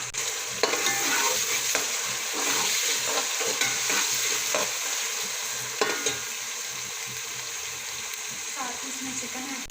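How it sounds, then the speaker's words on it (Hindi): Garlic, ginger and tomato frying in a pan for chicken fried rice, a continuous loud sizzle with repeated spoon clicks and stirring scrapes, close by and without talking. "लहसुन अदरक को थोड़ा सा भूनेंगे। अब इसमें शामिल करेंगे 1 अदद टमाटर।"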